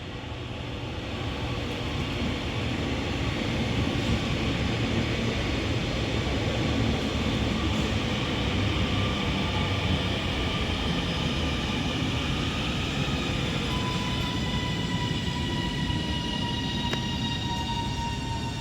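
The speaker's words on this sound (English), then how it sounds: "as this double Northern 331 arrives in now" A double Northern class 331 electric train pulls into Bolton station, a loud, broad steady rush of rolling wheels and motor hum near the platform, with high whine tones rising toward the end as it slows.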